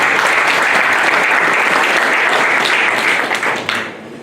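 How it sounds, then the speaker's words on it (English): Loud, sustained applause from a large audience fills the space, then begins to taper off toward the end. "Please give a round of applause for Bill and Melinda."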